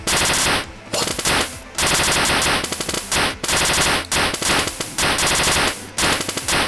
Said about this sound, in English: Looks like machine guns.